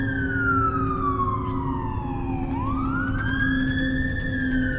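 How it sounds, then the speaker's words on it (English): A fire truck siren wails past outdoors near a turf sprint track, its loud tone sliding down then sweeping back up over steady traffic rumble, with no one talking. "here we have a fire truck coming"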